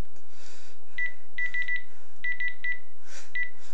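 A telephone voicemail system sounds short electronic beeps that come in quick clusters of two to four, clear and close against near silence.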